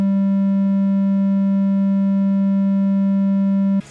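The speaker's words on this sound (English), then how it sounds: "or a sharp shape, a triangle wave," A steady, slightly bright electronic tone holds one constant low pitch for about four seconds, then cuts off abruptly.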